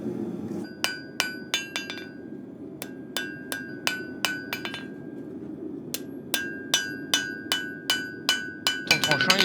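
A hammer strikes a forged blade on an anvil to flatten it, ringing metallic blows in uneven bursts and quick runs, loud and close, with pauses between groups.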